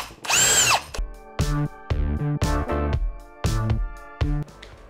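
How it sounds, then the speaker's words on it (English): A half-inch drill bit bores lightly into a plastic armrest console door panel of a 2013-2018 Toyota Avalon, a high whining spin-up followed by a series of short stuttering drill bursts and pauses, close and fairly loud. "we want to take a half inch drill bit and just kind of lightly drill this so you get the plastic out of the way."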